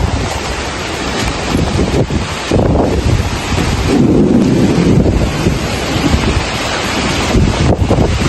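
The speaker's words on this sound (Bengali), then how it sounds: "এখন ঝড় উঠেছে, বৃষ্টি হচ্ছে" Thunderstorm with strong wind and rain, a steady loud roar of wind buffeting the microphone and rushing rain, with deeper rumbling swells that rise and fall throughout, no voices.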